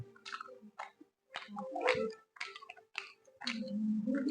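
Someone chews a boiled puli pitha rice cake up close, with moist, squishy bites in uneven bursts and short pauses between them.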